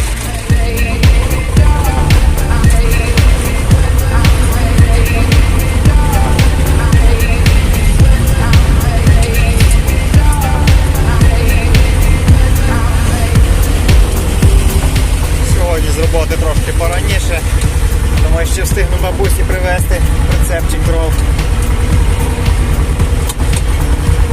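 A T-25 tractor drives out to the forest for firewood, its engine a loud, steady diesel rumble that runs unbroken throughout, with clattering rattles layered on top.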